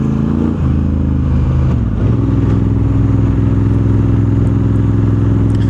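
Honda CRF1100 Africa Twin 2024 motorcycle with an aftermarket exhaust idles close by, a loud steady throb with a brief blip of the throttle early on and no talk over it.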